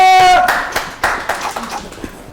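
A short burst of audience applause at a live arts award show, brisk uneven claps from a few people that begin right after a voice and fade within about two seconds.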